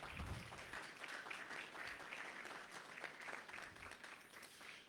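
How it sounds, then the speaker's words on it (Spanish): Audience applause at a transport expo financing panel on sustainable mobility, a moderately faint, steady wash of many hands clapping that runs throughout with a distant, roomy quality. "Y les pido un aplauso aquí"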